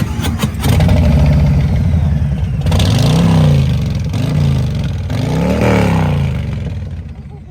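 A matte black Suzuki GSX-R 600 sport bike revs up at a bike night gathering in Sacramento: a loud, close engine climbing and falling in several throttle blips over a steady idle, with no voices.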